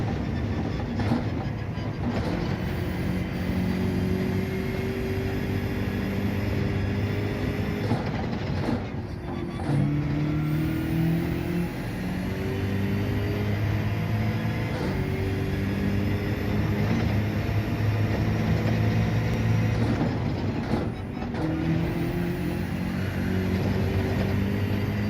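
A BMW M6 Gr.3 race car in Gran Turismo 7 lapping Road Atlanta, its engine a steady, loud droning whine that climbs through the revs, with brief dips at gear changes and a faint rumble beneath.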